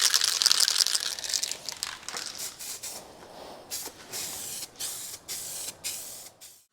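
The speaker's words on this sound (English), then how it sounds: "it's just going to get a quick spray over with this" A spray paint can hissing loudly in a steady burst, then a run of shorter intermittent sprays, close up, with no voices.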